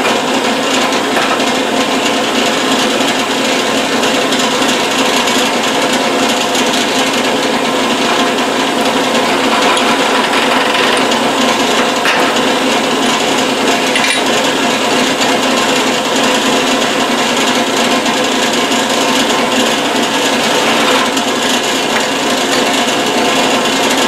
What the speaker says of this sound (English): we'll just do a little chamfer